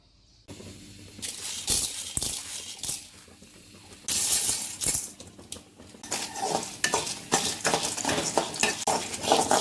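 Chana dal, urad dal and peanuts roast in oil in a pan for chutney, stirred with a metal spoon: dense scraping and clattering against the pan over a crackling sizzle, starting abruptly and continuing throughout.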